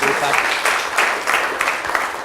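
A group claps together in a short burst of applause, steady and fairly close, with a few voices murmuring underneath.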